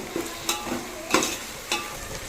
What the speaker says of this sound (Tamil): இஞ்சி பூண்டு பச்சை வாசனை போகிற வரைக்கும் வதக்கிக்கலாங்க